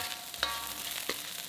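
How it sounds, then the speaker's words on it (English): Steamed rice stir-fried in a pan for pineapple fried rice, a steady close sizzle with a couple of quick stirring scrapes. "Transfer in the steamed rice and stir fry until every grain of rice is separated."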